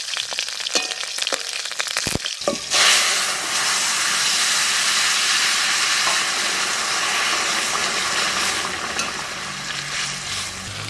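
Green chili and black cumin hit hot mustard oil with a sudden loud burst of frying, settling into a steady close hiss and sizzle after a few quiet clinks.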